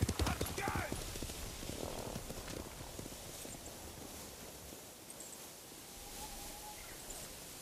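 Hooves clip-clop in a rapid rhythm as horses ride past in the video game Ghost of Tsushima, loud at first and then fading into a distant ambient hush.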